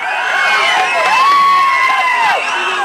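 A crowd of fans at a film audio release function, cheering and whooping loudly, with shrill shouted voices rising and falling over sustained noise, close and dense.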